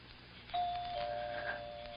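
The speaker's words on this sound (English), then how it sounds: "Go on, push the bell." Doorbell in a 1950s radio crime drama gives a single clear electric ring that starts sharply and holds as a steady tone to the end, alone without talk.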